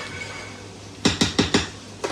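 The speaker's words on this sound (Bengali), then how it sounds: "বেশ একটু নাড়াচাড়া দিয়ে দিলাম।" A spoon scrapes and knocks in a pan of small-fish curry with mustard and hilsa, giving four quick close clatters in a row after a quiet start, then one more a moment later.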